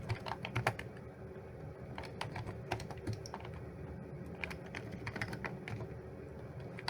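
Router configuration commands being typed on a computer keyboard, with quick bursts of close key clicks and short pauses between them. No talking.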